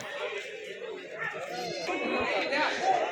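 A sheep bleats a few times among a murmuring crowd at the Tuesday sheep and goat market in Kadiri, with people chattering close by.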